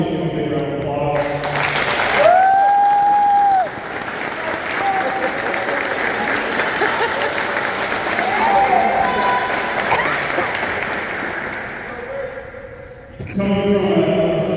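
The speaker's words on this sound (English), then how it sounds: "let's give him a big round of applause." A round of applause from an audience at a school college signing day, sustained clapping for about ten seconds, bracketed by brief talk at the start and end.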